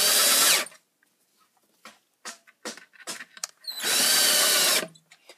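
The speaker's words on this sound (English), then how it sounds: "I'm just going to finish up with putting these last screws in." A power drill drives screws into wood while building a hockey bag and ski holder: two long loud whirring bursts at start and end, separated by softer clicks and handling knocks, with no talk.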